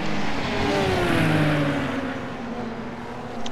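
A blue RUF race car in iRacing at Circuit Gilles Villeneuve drones steadily with a loud, sustained engine note and gliding pitch shifts, holding close and continuous throughout.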